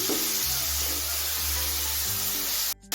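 Meat sizzling loudly in oil in a pan for a Chinese vegetable dish, a constant close hiss with some low stirring noises, cutting out briefly near the end.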